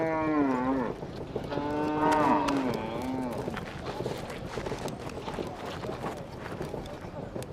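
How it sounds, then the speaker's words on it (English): Fulani cattle grazing and lowing, several long drawn-out moos near and loud at the start, followed by a busy outdoor mix of clopping hooves and movement. "Fulani cows grazed."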